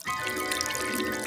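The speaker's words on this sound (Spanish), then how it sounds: "¡Greñas hizo pipí en la alberca!" A dog named Greñas urinating into a clean backyard swimming pool, heard as a steady, close liquid trickle and splash lasting just over a second.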